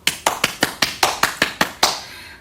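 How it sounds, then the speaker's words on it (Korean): Thankful applause at a children's online worship service: about ten crisp, evenly spaced hand claps, close and clear, with no talking, ending in a short fade. "오늘 예배를 받아주신 하나님께 감사의 박수 올려드릴까요?"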